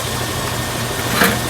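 An air compressor for a vapor blaster runs steadily while it refills its tank, a close, even mechanical hum with a faint brief clank near the end and no talk.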